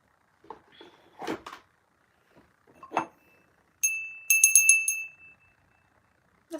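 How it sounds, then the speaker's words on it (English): A small handheld bell rings indoors, a few bright clear dings in quick succession near the end, after some quiet handling and shuffling. "Let's ring a bell."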